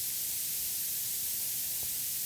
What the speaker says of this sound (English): Like for example, spraying right now.